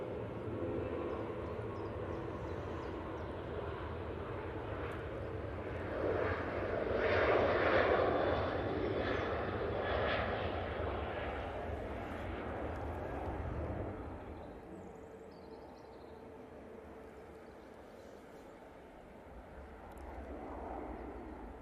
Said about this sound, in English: Jet 2, 737-800 on the roll.